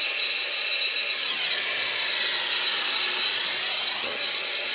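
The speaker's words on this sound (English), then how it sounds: "Little sanding cloth and that's done." Sanding cloth rubs against copper pipe during zone valve plumbing work, a steady close hissing scrape that continues throughout with no talk.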